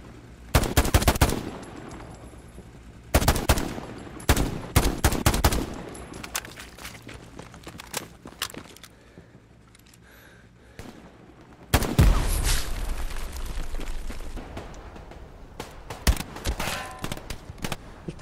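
Machine gun fire in the World War II video game Hell Let Loose, arriving as loud bursts of rapid shots separated by quieter gaps, with scattered single cracks and a long sustained burst near the end.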